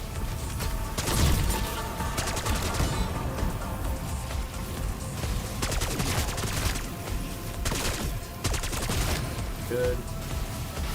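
Sustained gunfire in Black Ops 6 Zombies on the Liberty Falls map, a dense rattle of rapid shots running through the whole stretch with a few louder bursts, fairly close and continuous.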